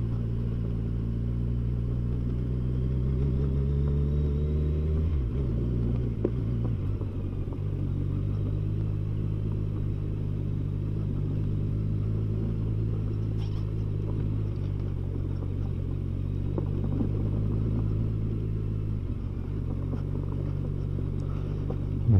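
Interior of a car on new tyres driving slowly along a rough, narrow old mountain road in Toyama, a steady low rumble of engine and road noise throughout with occasional bumps, heard from inside the cabin.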